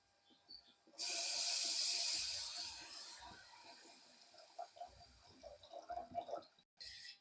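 Water pours into a pan of garlic gathiya curry, a loud bright rushing burst for about two seconds that tapers off, followed by softer scattered bubbling and clatter.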